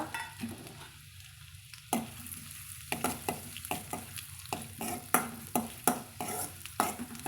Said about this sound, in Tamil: சேர்த்து வதக்கி விட்டுறலாங்க